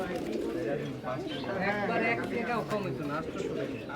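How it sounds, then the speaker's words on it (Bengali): Many caged pigeons coo continuously at a busy pigeon market in Saruliya, their throaty calls layered close by while people talk and bargain. "এই যে কবুতরগুলো দেখতে পাচ্ছেন"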